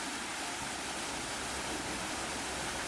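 Water from a hot spring waterfall in Krabi, Thailand rushes in a steady, dense wash of noise that fills the whole stretch, with no voices.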